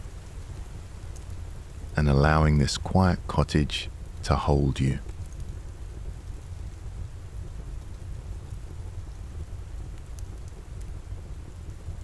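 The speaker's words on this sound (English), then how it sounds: "The steady rhythm of rain continues, like a soft hush, soothing the edges of the evening." Steady rain falls outside a quiet cottage, an even, hushed wash that runs throughout while a calm voice speaks briefly near the start.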